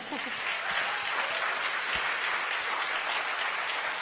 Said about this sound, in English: Can we get a round of applause for that, please?